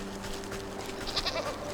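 A black sheep in the video game Wytchwood lets out a short nasal bleat over soft background music, the cry coming near and fairly clear.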